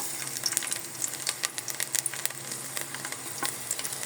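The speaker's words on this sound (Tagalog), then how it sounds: "ang unahin natin yung ating bawang" Chopped garlic sizzles steadily in hot cooking oil for tofu sisig, a close, continuous crackle with small pops and no talking.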